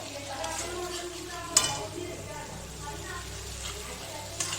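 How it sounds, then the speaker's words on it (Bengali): Spiced masala for chicken stirred and fried in a pan: a low, steady sizzle with one sharp utensil clink early on and another near the end, while a voice murmurs faintly in the background. "মশলাটা আমার কষানো হয়ে গেছে"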